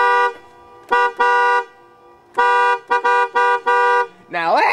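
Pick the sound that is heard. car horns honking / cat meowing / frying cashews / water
car horns honking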